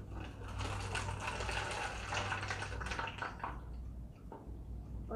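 Hydrogen peroxide, half a cup, pours into a bottle for an elephant toothpaste mix, a steady close liquid gurgle and splash running for several seconds before trailing off.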